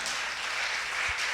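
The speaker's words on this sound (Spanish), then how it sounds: "Dele un buen aplauso al Señor esta mañana." A church congregation gives a steady wash of applause, dense and continuous throughout, with no voices standing out.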